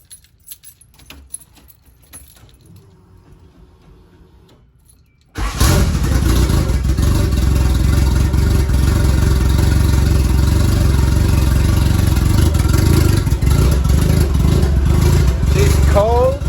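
A car running E85 starts just after a clutch change: keys jangle and click quietly, then the engine catches abruptly and keeps running loud and close with revs rising and falling, a voice faintly over it.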